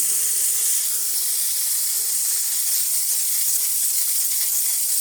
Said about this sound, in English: And now we're having nice steam.